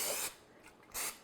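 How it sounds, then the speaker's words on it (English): Cooking spray hisses into a saucepan in two short bursts, a soft aerosol spritz, a brief pause, then another quick spray, close and fairly quiet. "I do like to either butter my saucepan or I'm just going to spray it"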